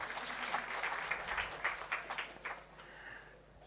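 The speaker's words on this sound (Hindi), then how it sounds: "ताली बजाओ इनके लिए।" Audience clapping at a public speech about a new railway station, a short burst of scattered applause heard from a distance that fades out after a few seconds.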